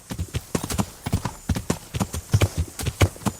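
A horse's hooves clip-clop steadily in Kingdom Come: Deliverance, a close, brisk rhythm of sharp hoof strikes on firm ground, with no talking.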